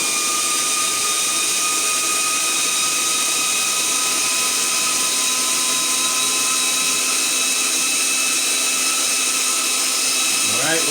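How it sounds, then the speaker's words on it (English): A Vevor PCP 4500 PSI high-pressure air compressor runs steadily with a bright, sustained mechanical whine and a dense layer of hiss, holding constant throughout before a brief shift near the end. "Let it kick in the high gear"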